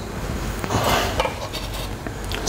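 Garlic drops into a hot pan of olive oil, giving a steady broadband sizzle with a brief swell as it lands, plus faint scrapes of a utensil against the pan.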